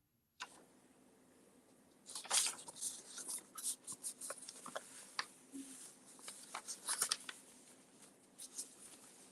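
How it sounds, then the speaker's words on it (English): Papers being shuffled and rustled during a search for the right sheet, with irregular crisp crinkles and flicks that come in bursts close to the listener, alone without talk. "I'm trying to find the right paper."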